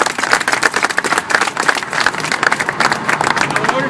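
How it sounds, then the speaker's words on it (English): Applause from an audience at an outdoor public event honoring a regional transit authority, a steady burst of clapping lasting several seconds, fairly loud and close. "So let's give a round of applause for the Regional Transit Authority."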